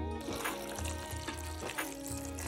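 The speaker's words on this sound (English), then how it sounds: "Now we are going to mix everything together and then add 2 cups of water." Water being poured into a vegetable curry with tomato sauce and tomato paste in a slow cooker, a continuous close splashing pour with gurgling lasting the whole short clip.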